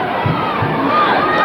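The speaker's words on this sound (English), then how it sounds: "And now we have the crowd really going wild now." A Gaelic football crowd at a 1988 Meath senior final between Trim and Kildalkey roars after a score, a loud, continuous swell of cheering voices with a couple of low thumps early on.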